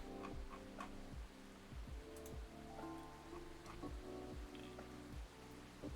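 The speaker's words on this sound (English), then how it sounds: "This rainy season sure is something." Steady rain falls and patters on surfaces, a dense, soft hiss with scattered drips and ticks that continues throughout at low volume, with no speech.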